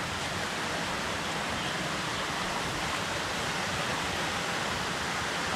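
Waterfall at Varattaru Valukkuparai, a steady broadband rush of falling water that holds constant and fairly distant throughout, with no voices over it.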